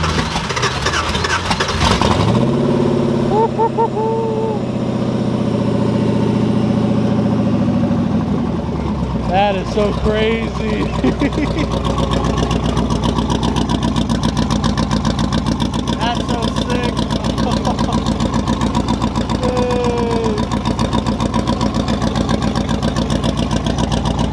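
A modified street car at a street car meet cranks and fires, settling into a loud, steady idle that runs throughout, with people talking nearby over the engine.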